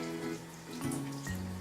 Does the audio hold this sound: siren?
no